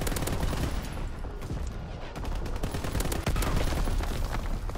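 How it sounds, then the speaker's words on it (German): Artillery battery firing in a war video game: dense, continuous barrage of booming shots and crackling gunfire, loud and sustained throughout with no pauses. "Batterie 1 feuert."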